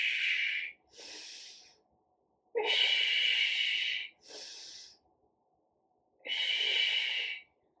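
Forceful breaths during a lifting workout come in five sharp, close bursts of exhaling and inhaling air, separated by brief silences, with no talking.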